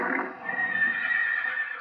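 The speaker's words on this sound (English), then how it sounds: "There we go, the horses in there are going nuts." The Lionel Vision Line horse car, a toy model train car, plays a recorded horse neigh, a single drawn-out, quavering whinny that sounds close and fairly loud on its own.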